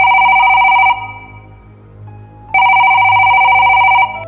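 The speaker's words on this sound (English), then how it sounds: "the phone rang again." An old-style telephone bell rings loudly at midnight, two long electronic-sounding ring bursts separated by a pause of near silence, close and clear with no voices.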